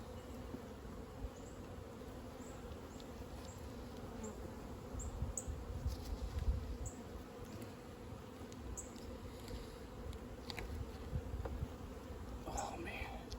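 Honeybees hum steadily inside a strong overwintered hive opened for inspection, a dense continuous buzz close by with occasional faint clicks and handling sounds.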